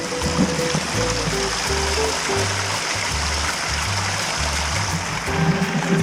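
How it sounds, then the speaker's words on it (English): Steady rushing water from a small waterfall running off a mountain on the Cape Town coast, with a low Vespa engine idle and a few tonal hums underneath; continuous, fairly close, no voices. "look at this beautiful little waterfall here"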